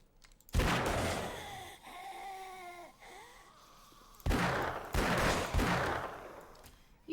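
Gunfire in a zombie shooter video game, bursts of rapid shots in two clusters with a quieter stretch between, a voice moaning or talking faintly in the middle.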